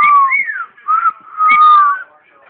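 A pet bird whistles back and forth in clear, close, gliding tones, broken into three short phrases of rising and falling pitch.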